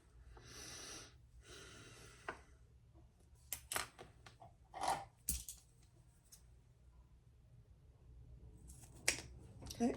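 Scissors cutting fabric strap connectors in two while sewing a shoulder bag, a few sharp close snips and rustles scattered through a quiet room.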